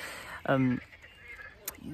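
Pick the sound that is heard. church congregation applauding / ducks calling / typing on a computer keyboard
ducks calling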